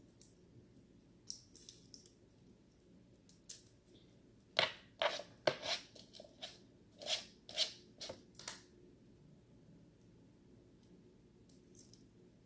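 Garlic cloves being peeled by hand, a series of close, dry crackling snaps and papery skin tearing in irregular bursts against a quiet background, with no talking.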